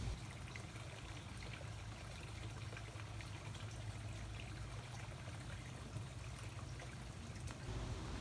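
A river running beside a forest trail, a steady broadband rushing of flowing water, continuous and fairly faint, heard alone without talk.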